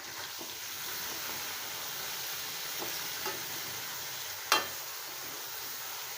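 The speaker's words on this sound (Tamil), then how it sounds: "இந்த மசாலா நல்லா பச்சை வாசம் போகிற அளவுக்கு நல்லா வணக்கி விடுங்க" Ground masala paste sautéing in oil in a pan for drumstick curry, a faint steady sizzle with occasional soft scrapes and one sharp clink near the end; no talk.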